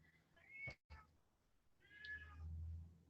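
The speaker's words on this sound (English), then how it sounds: "that's my cat" A house cat meowing indoors, two short faint meows about a second apart, quiet and close.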